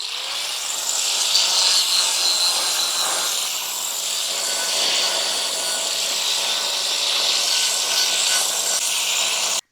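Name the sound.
polishing blade grinding a marble/granite step edge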